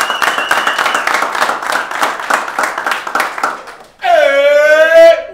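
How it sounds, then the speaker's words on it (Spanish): Applause and clapping from a basketball team celebrating at the Centrobasket 2016 tournament, a dense run of claps for about four seconds, then a brief squeaky whistling burst at the end. "Yo creo que hoy merecemos un aplauso bien fuerte."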